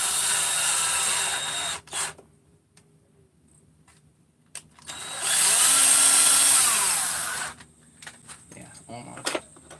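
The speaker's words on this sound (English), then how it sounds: "Hopefully not drilling into the cylinder head." A power drill whines loudly in two sustained runs on an engine, near the cylinder head, separated by quieter stretches of clicking and handling noise, close by.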